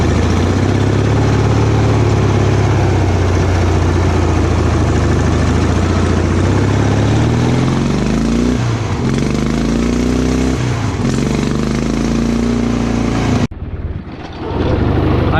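Engine of an offroad tractor running steadily and loudly up close, a rough low idle with a couple of brief revs near the middle, cutting off abruptly near the end.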